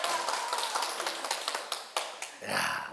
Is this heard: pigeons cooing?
no